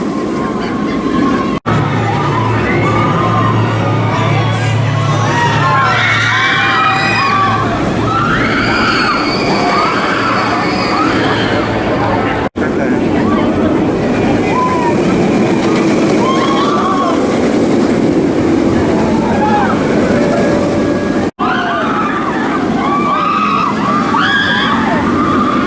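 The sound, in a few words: Jurassic World Velocicoaster roller coaster ride at Universal Orlando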